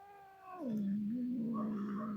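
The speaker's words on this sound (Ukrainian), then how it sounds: "Ось і коти прийшли трошки поспілкуватися під трояндочку." A cat meows near a rose bush in a garden, one drawn-out, wavering yowl that falls in pitch and then holds steady, fairly close and heard alone.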